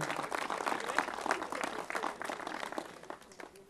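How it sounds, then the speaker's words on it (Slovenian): Audience applause for an accordion player at a local opening ceremony for public roads and a renovated sports ground, a brief burst of scattered clapping that fades out. "Še en aplavz za našega harmonikarja."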